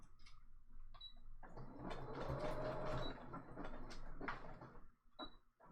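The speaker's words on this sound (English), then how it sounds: "It's a little easier when you're sewing on paper" A domestic sewing machine runs a wide zigzag stitch through paper for a handmade Christmas journal. A soft, quiet mechanical whir and rhythmic clatter hold steady for several seconds, then slow and stop, heard close with no voices.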